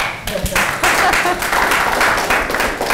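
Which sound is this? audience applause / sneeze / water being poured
audience applause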